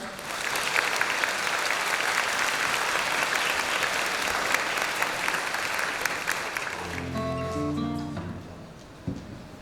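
An audience applauds steadily after a string orchestra performance at a high school coming-of-age ceremony, then the clapping thins and music takes over in the final seconds.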